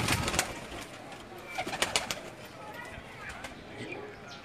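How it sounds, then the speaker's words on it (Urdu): Pigeons in a collection in Dhok Kala Khan, Rawalpindi, coo softly among scattered flutters and clicks, with voices talking in the background. "یہ کبوتر ہیں کوئی"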